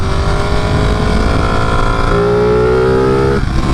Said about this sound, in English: When you throw this throttle down in race mode, you know you're fucking going, dude.